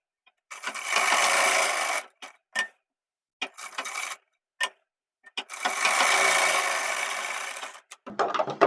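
Sewing machine stitching men's underwear fabric, two long buzzing runs of rapid stitching separated by short bursts and clicks, close and alone.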